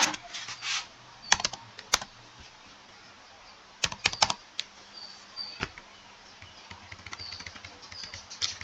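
Keystrokes on a computer keyboard come in quick bursts of close, crisp clicks with pauses between them while an SQL query is typed, and no voice is heard over them.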